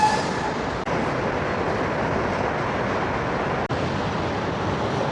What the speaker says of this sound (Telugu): ఆ సబ్వే ట్రైన్ ఇప్పుడు అండర్ గ్రౌండ్లోంచి పైకి వస్తుంది